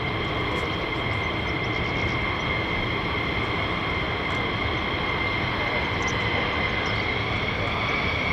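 A US Air Force fighter jet, an F-15 or F-35, taxis or idles at RAF Lakenheath with a steady, loud engine roar and a high whine, continuous throughout. A voice is heard faintly under the noise.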